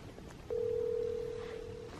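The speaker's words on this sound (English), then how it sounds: "I hear it ringing." Phone call ringing unanswered: a single steady ringback tone starting after half a second and holding for about a second and a half, faint and slightly distant over quiet room noise.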